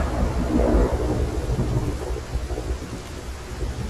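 Thunderstorm with heavy rain, a low rolling rumble of thunder building early and fading, over a continuous hiss of rain falling on surfaces, with no voices.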